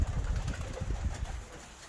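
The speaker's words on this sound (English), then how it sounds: "The birds are actually going to go out for a fly in a couple of minutes, their afternoon fly." Racing pigeons in a racing loft give soft, close cooing and fluttering murmurs over a steady low rumble, with no talking.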